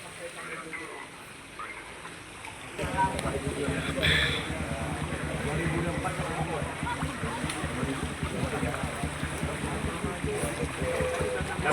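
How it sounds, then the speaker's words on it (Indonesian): A river in flood overflows its banks and spills into a village behind the houses, a steady broad rush of water that grows louder partway through and continues at close range. "Jadi air itu dari sungai karena debitnya sangat tinggi,"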